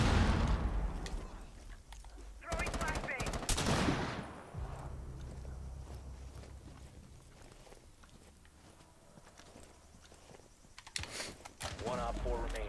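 Gunfire in Tom Clancy's Rainbow Six comes as loud bursts of rapid shots early on, then quieter scattered shots and clicks under a talking voice.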